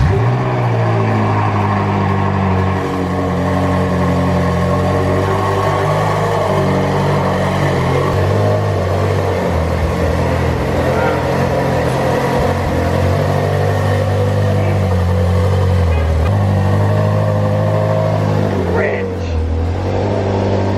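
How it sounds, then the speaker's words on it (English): A Ferrari 458 Spider engine idles loud and steady up close after starting, its deep rumble rising and falling with occasional revs. "Car is being fired up now."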